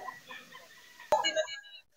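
Chickens cluck in short, scattered calls that grow louder in the second half, mixed with someone talking and faint background noise.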